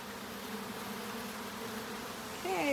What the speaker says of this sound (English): Bucket of bees.